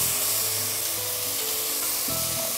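Shiitake mushrooms, carrot and kimchi sizzle in hot oil in a pot for a Korean glass noodle casserole, a steady close frying hiss with a brief shift as more food goes in near the end.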